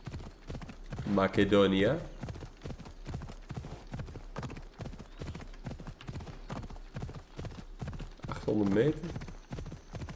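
Rapid, rhythmic hoofbeats of a galloping horse in Assassin's Creed: Odyssey, steady throughout, while someone talks over them in Dutch at moments.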